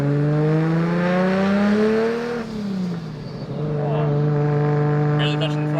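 A modified Nissan R33 GTR making 800 horsepower revs hard under light throttle, a loud close engine whose pitch climbs, dips as the revs drop, then rises again while people talk over it.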